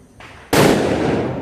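A Diwali firecracker goes off close by, a brief fizz giving way to a sharp, loud burst that keeps roaring and crackling for the last second, with no voices.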